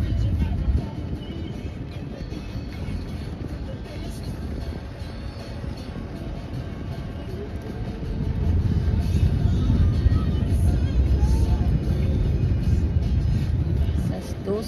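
Steady low road-traffic rumble from cars and buses around a vehicle on a busy Saturday afternoon road, continuous throughout and growing louder in the second half, with a voice talking over it.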